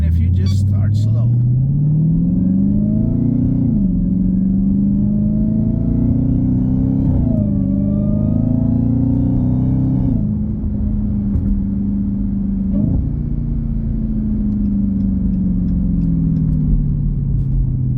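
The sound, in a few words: Dodge Hellcat Widebody engine with GT Haas exhaust while driving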